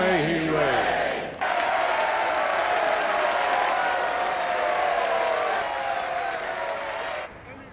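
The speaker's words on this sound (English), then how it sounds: "He got much more of an applause than Joffrey did" A large crowd applauds and cheers at a royal coronation in Game of Thrones, a loud swelling roar after a voice calls out, then sustained clapping and cheering that cuts off near the end.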